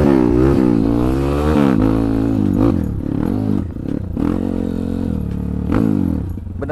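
A Honda CRF motorcycle with a 266cc engine revs hard in repeated rising and falling bursts while pulling a wheelie, loud and close, with clattering and brief dips between throttle blips.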